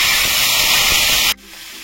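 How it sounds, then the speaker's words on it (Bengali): Cooked mung dal poured into a pan of hot spice tempering gives a loud, steady sizzling hiss. The hiss holds for over a second, then drops off sharply to a much quieter simmer. "এখন সিদ্ধ করা ডালটা ঢেলে দেব।"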